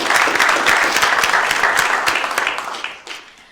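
Audience applause at a lecture hall event: dense, loud clapping from a seated crowd with distinct individual claps standing out, thinning and fading out over the final half second.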